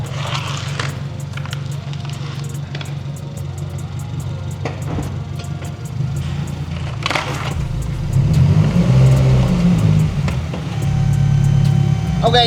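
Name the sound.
lowered Subaru car driving up onto bricks and ramps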